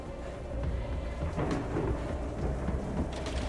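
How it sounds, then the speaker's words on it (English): Thunder rolls through a storm as a low, sustained rumble mixed with steady rain, the roar swelling and easing without a break. "Thunder rolled across the land, louder than anything the people had heard before."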